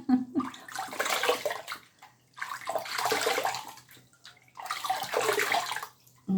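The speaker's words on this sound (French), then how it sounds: "je vais me rincer le visage et je reviens" Water running from a tap while someone rinses their face, three bursts of splashing flow separated by short quiet gaps, close and fairly soft.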